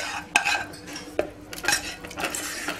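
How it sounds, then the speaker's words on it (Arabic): A spoon stirs cooled chicken and onion into a beaten egg and crème fraîche mixture in a bowl, giving soft scraping and occasional light clinks of utensil on dish, fairly quiet and close, with no talking. "وغادي نحركهم مزيان"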